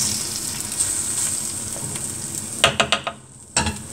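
Minced meat fries with garlic and parsley in a pot for a Moroccan kefta tajine, giving a steady close sizzle, then a quick run of sharp stirring clacks against the pot and one more knock near the end.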